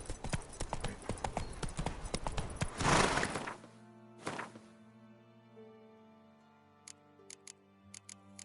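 Roach, Geralt's horse in Witcher 3, gallops with a rapid, loud clatter of hoofbeats for about three seconds. A final heavy thud follows, then the hooves give way to the game's music and a few light ticks.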